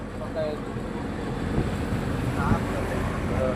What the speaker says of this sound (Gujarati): આ પવન બહુ છે ગાય જો તમને પવન બતાવું પવન કેટલો છે